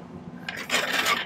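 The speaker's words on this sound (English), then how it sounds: "So I'm just going to spend a few minutes cleaning these up with the file." Hand file rasping over sawn silver jewelry pieces, a short burst of scraping strokes, close and fairly quiet, with no voices.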